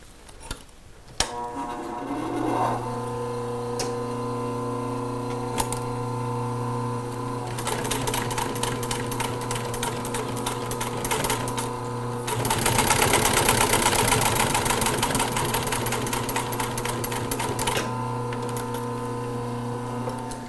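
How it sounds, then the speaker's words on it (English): A sewing machine stitches rubber webbing onto a truck seat clip, running in a loud, steady mechanical whir with rapid needle ticking, briefly stopping and restarting, close and alone. "I'll start by sewing rubber webbing to one of these clips."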